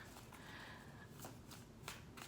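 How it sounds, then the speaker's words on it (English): Oracle cards are shuffled in quick, soft riffling bursts with small snapping flicks. The sound is close but quiet, and no one speaks. "Let's just keep shuffling."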